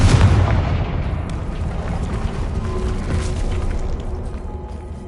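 Confringo spell blasting a barrier in Hogwarts Legacy, a loud booming burst at the start that rolls into a sustained rumbling roar and fades slowly, no voices.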